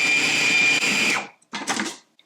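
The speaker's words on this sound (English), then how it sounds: "my first 2 potatoes were blended" Potatoes whirring in a blender for a meat patty mix, a loud steady motor whine that cuts off, then a short second burst before stopping.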